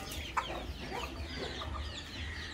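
Country desi chickens cluck softly while eating feed mixed with vegetables, with a few low, close calls over a quiet farmyard background.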